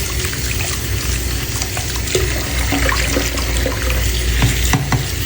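Running water pours and splashes steadily while a large vintage Crissy doll is washed off, a constant close hiss of water with small clatters and splashes as the doll is handled.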